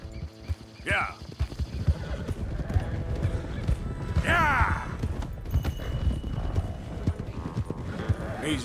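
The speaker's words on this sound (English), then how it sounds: "Come on, horses!" Horses gallop with steady clip-clop hoofbeats and let out two sharp whinnies in Red Dead Redemption 2, while someone shouts urging calls over the running team.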